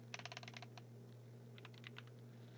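Quick typing on a computer keyboard while entering terminal commands, two clusters of crisp close keystrokes over a steady low electrical hum, quiet and with no talk.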